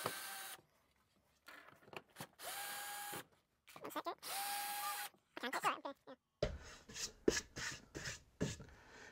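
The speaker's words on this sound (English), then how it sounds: "I'm gonna take these screws out, just as a bit of an experiment to see what's going on" A power drill whirs in repeated short bursts while backing screws out of a wooden molding box for sand casting, each spin-up steady and close, separated by brief pauses and clattering handling sounds toward the end.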